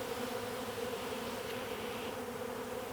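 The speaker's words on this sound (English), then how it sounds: "The bees are going a little bit crazy now." Dense, steady buzzing of many honey bees swarming around an open hive, close and continuous with no voices.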